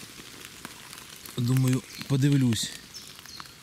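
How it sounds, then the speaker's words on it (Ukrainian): Light rain falls in a forest during mushroom season, a soft steady patter of drops beneath a voice, which briefly speaks a couple of loud words in the middle. "Я ось під дощиком"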